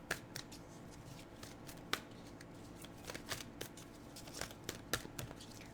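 Tarot cards of the Wildwood deck are shuffled close up, a run of quick papery riffles and flicks with a few sharper snaps, fairly quiet and without speech.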